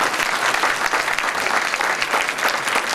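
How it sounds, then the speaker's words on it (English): A hall audience at a major speech event breaks into a sustained round of applause for a speaker, dense and even clapping filling the whole stretch without talk on top. "let's give him another round of applause"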